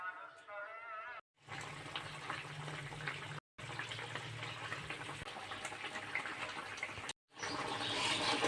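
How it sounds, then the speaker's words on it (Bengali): Water pours into a pan of spiced Bengali rui fish curry with a steady rushing splash and sizzle, close and loud for several seconds, broken by brief cuts. "এখন আমি দিয়ে দেব জল"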